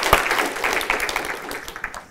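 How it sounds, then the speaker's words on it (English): Applause from a school Christmas assembly audience: a short burst of many hands clapping at once, fairly close and steady, fading slightly toward the end. "Big round of applause."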